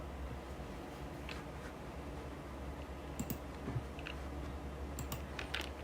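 Light tapping on a computer keyboard, a few scattered keystroke clicks over a steady background hiss, mostly quiet with short clusters of taps.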